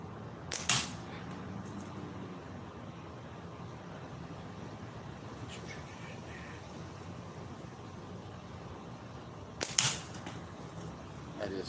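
Two sharp gunshots from a slingshot or pistol at a can-cutting shooting session outdoors, one near the start and one near the end, separated by steady quiet background noise.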